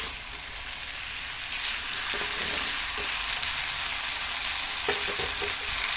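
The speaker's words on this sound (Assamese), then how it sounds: "আলু আৰু মাংস ধুনীয়াকৈ বইল কৰা হৈ আছে" Potatoes and meat bubble and boil together in a pot, giving a continuous close, busy sizzle and simmer with occasional soft clinks, with no voices.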